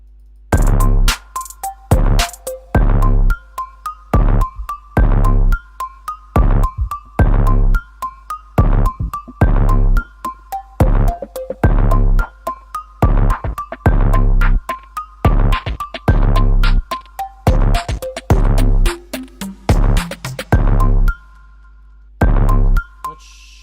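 An electronic beat built on 808s loops in steady pulsing repeats, its tone gradually brightening as an automated filter slowly opens over the section, loud and without voices.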